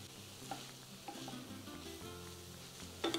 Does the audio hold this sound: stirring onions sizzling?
yes